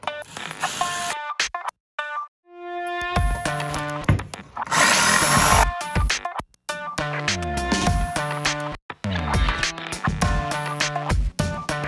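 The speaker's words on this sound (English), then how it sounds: "use the jigsaw to cut the circle in it" A jigsaw cuts a circle out of a wooden board, a buzzing, rattling reciprocating blade that starts and stops several times with short gaps between bursts, heard up close.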